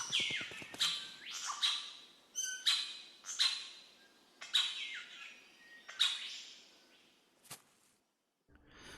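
A golden bowerbird in dense jungle gives a run of sharp, rasping squawks and chirps, about eight calls in an irregular rhythm, fairly close and alone before falling quiet.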